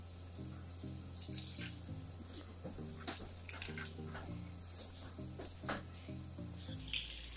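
Water runs steadily from a tap while someone fetches water, a continuous splashing rush with a repeating low tonal hum playing underneath throughout.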